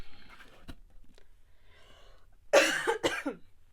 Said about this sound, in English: Try not to cough in your guys' ear